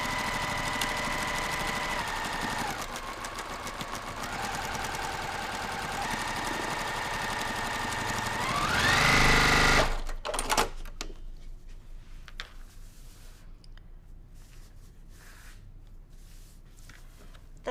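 A sewing machine stitches the final seam of a quilt row. A loud, steady mechanical whir runs close for about ten seconds, rises briefly at the end, then stops and leaves quiet rustling and handling sounds.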